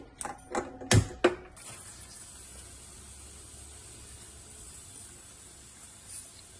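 Wheat semolina boiling in water in a pot: a few sharp utensil knocks at the start, then a faint, steady hissing simmer.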